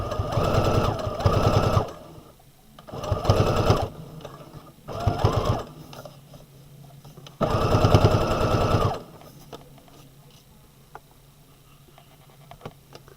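Sewing machine stitching fabric in short bursts of steady mechanical whirring, each run lasting a second or two, separated by pauses for maneuvering the material, close and fairly loud.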